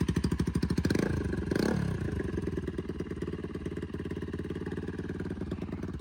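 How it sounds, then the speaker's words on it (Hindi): A Bajaj Pulsar NS200 motorcycle engine runs with its exhaust removed, firing in a loud, close, rapid staccato that climbs through a revving burst near the start and then settles into a steady, clattering idle. "बिना एग्जॉस्ट के सुनाते हैं इसका साउंड। स्टार्ट कर भाई।"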